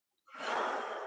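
A single breath is drawn in during a shoulder and chest-opening stretch, a soft, breathy airy rush lasting under a second, close and fairly quiet, heard alone without talking.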